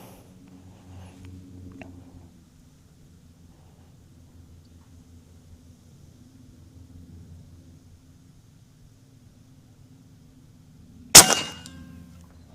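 .45 caliber airgun firing a 170 grain shot at targets: one sharp, loud report after a long stretch of quiet low hum, with a short ringing tail.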